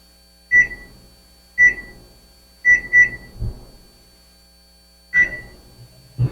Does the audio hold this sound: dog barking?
no